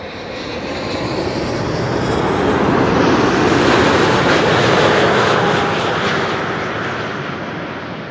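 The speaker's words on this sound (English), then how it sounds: "This is United Airlines flight 968 arriving from San Francisco." United Airlines jet airliner arriving at Amsterdam Schiphol Airport after a flight from San Francisco, its engine roar swelling as it nears, peaking midway, then fading away, loud and continuous with no talk.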